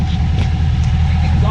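A 455 hp V8 in a BMW E24 idles steadily with a deep, continuous low rumble, loud and close, holding an even tone throughout.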